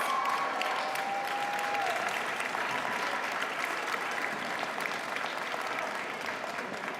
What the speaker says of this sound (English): You may clap, blow kisses, yes.